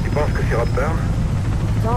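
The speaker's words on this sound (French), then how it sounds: "on dirait bien que c'est un hélicoptère de police." A police helicopter in the video game Mirror's Edge thrums with a low, steady rotor rumble under someone speaking French.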